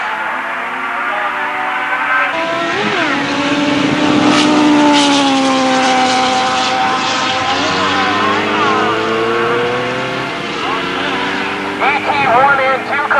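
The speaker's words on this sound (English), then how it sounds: "Spectator side, Scott Maynard on his Suzuki. It's an 82 750" A 1982 Suzuki 750 motorcycle races at a drag strip at St Thomas Dragway, its engine revving loudly and steadily with rising and falling pitch throughout, under an announcer talking over a public address.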